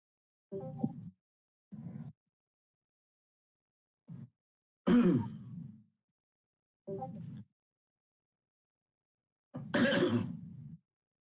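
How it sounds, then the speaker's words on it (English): Several separate short coughs and throat-clearing grunts, close and fairly quiet, spaced out with silence between them, two of them harsher and louder. "Cough's contagious over the internet."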